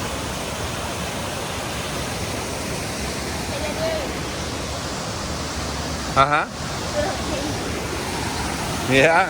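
Constant roaring rush of Stafford Falls in Mount Rainier National Park dominates, broad and steady, with a couple of brief casual voices murmuring over it.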